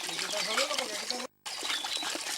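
Water trickles and splashes out of a broken pipe in a steady close stream, briefly cutting out midway, with background noise around it.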